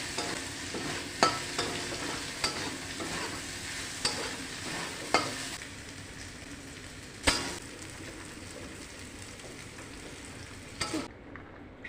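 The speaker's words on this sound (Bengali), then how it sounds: "চিকেনটা প্রায় আমার ভাজা কমপ্লিট। এবার নামিয়ে নেব।" Chicken pieces frying in oil in a pan, a continuous close sizzle with periodic sharp scrapes and clinks of a spatula stirring, steady throughout before cutting off near the end.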